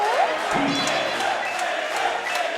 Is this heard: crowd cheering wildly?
yes